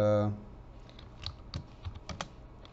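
Light typing on a computer keyboard, a scattered series of soft clicking keystrokes in irregular rhythm following a brief vocal sound at the start, fairly close and quiet.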